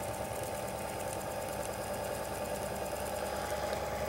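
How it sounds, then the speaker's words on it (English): A DC motor runs continuously in a bucking-coil energy demonstration rig, giving a steady, close, even mechanical whir and hum with no pauses. "this is the amp draw going into the DC motor"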